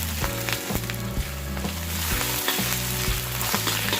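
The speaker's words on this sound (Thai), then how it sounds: "ผัดแหนมกับน้ำมันก่อนนะครับ" Fermented pork sausage with sliced red chili is stir-fried in hot oil for Thai fried rice, giving a steady sizzle with light scraping, under background music.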